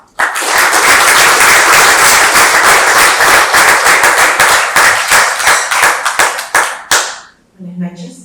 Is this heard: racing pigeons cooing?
no